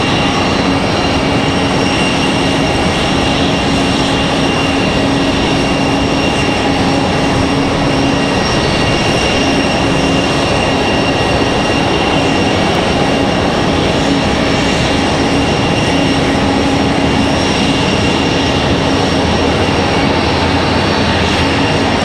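A blue-liveried Southwest Boeing 737 MAX 9 departs Raleigh-Durham airport, its steady broadband jet roar filling the air at a moderate distance, holding strong with a faint tonal whine throughout, no voices.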